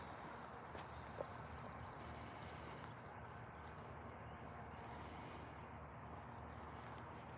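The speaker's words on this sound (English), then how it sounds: "I'm hearing some cool insects and a chickadee." Faint, continuous chirping of insects outdoors in a calm natural setting, with a high steady buzz early on fading into a quiet background hum; no talking.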